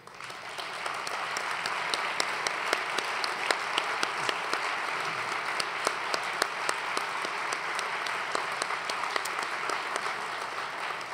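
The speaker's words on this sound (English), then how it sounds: "if you could give them a round of applause" An audience at an annual dinner applauding the UCA board members, with dense, sustained clapping from many hands and sharp individual claps standing out near the front.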